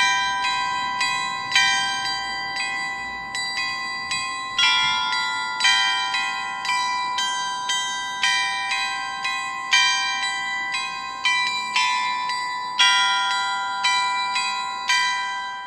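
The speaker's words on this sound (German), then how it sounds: "das Glockenspiel." The carillon of the Salhof in Lahnstein plays a steady melody of bright, ringing bell strikes, each note decaying into the next, clear and prominent with no talking.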